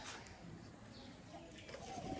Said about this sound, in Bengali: দেখতেছেন কবুতর গুলো কিরম করতেছে